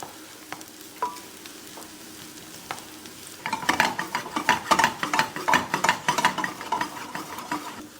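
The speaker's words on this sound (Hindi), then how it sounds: "प्याजा के लिए हमें प्याज को बेसिकली ब्राउन करना है" Onions frying in a pan until browned for paneer kabab, with soft sizzling at first and then louder crackling bursts and stirring clatter, close and without voices.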